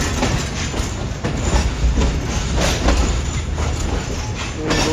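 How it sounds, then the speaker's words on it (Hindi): A Pakistan Railways passenger train running between Lahore and Karachi takes a sharp left curve after leaving Rohri Junction, heard as a loud, continuous rumble from inside a coach with rhythmic clickety-clack and rattling wheels. "रोडी जंक्शन से निकलते ही ट्रेन एक अच्छा खासा लेफ्ट टर्न ले रही है इस वक्त"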